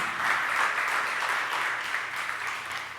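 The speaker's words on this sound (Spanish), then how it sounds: "Un aplauso al Señor." A church congregation applauds in a steady, dense wash of clapping, moderately distant and even throughout a few seconds, with no talk over it.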